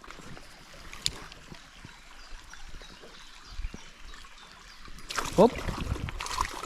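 Shallow stream being waded upstream, a steady water trickle and splashing that swells into louder sloshing steps near the end, with a brief spoken word.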